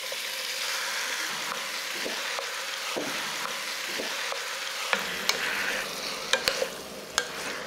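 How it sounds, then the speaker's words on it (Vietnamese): Marinated chicken stir-frying in a pan over medium heat, a constant close sizzle broken by spatula scrapes and sharp clicks against the pan, with no one speaking. "Cho hết chỗ gà đã ướp vào,"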